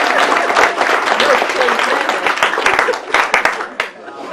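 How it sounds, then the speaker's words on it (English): Audience at a golf club event giving a round of applause, close, brisk clapping from a modest crowd that thins toward the end. "Can I have a very special round of applause there for Jane?"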